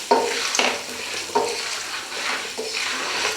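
A tempering with turmeric sizzles in a pan for Telangana-style pumpkin curry, stirred in about four distinct scraping strokes over a steady frying hiss, close and fairly loud.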